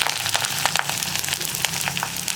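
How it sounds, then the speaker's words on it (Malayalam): Mustard seeds spluttering in hot oil as ginger, green chilli and onion go in for a potato curry: a steady, dense crackling sizzle with fine popping, close up and continuous, with no talking. "ഇപ്പോൾ നമ്മുടെ കടുക് പൊട്ടിക്കൊണ്ടിരിക്കുന്നുണ്ട്"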